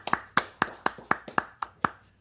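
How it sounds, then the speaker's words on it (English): A small round of applause for Atlanta Braves player Austin Riley: about nine sharp, evenly spaced hand claps, close and clear, with no talking over them. "We're going to give Austin Riley a round of applause right here."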